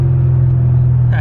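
Deep, steady car engine rumble with a throaty exhaust drone, loud and close, idling high or revving evenly throughout.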